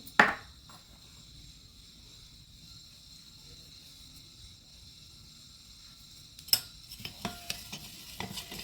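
A spoon stirs a milk and sugar mixture with cardamom sugar powder for butter fruit ice cream, heard as a sharp clink at the start and a run of light metal taps near the end, otherwise quiet.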